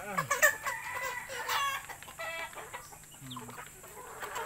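Young three-month-old stag chickens, large and full-bodied, cluck and call close by in a quick, irregular series of short squawks and clucks, with no one talking.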